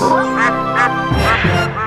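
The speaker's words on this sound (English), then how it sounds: "Then there's ducks." A duck quacks several times in quick succession, loud and close, with the nasal calls repeating in a steady rhythm.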